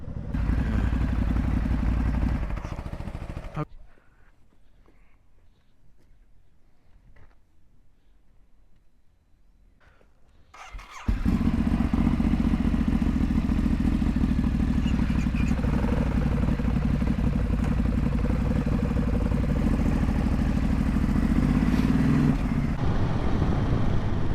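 A Ducati Hypermotard 698 motorcycle engine runs loud and close, drops away abruptly to near quiet for several seconds as it stalls, then roars back to a steady loud running drone.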